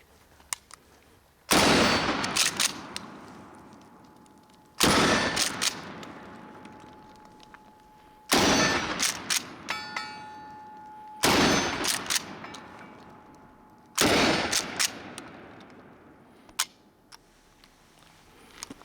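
A Mossberg Nightstick 12 gauge shotgun fires five loud, sharp blasts at an outdoor range, spaced a few seconds apart, each followed by a short decay and faint handling noise.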